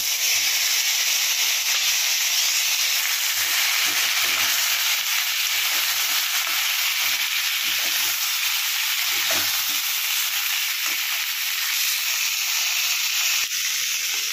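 Cauliflower pieces fry in hot oil with spices for a Bengali korma, giving a loud, continuous close sizzle and hiss, stirred now and then with faint scraping.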